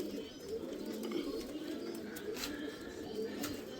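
Pigeons cooing close by in a loft, repeated low soft coos rolling one after another over steady background noise.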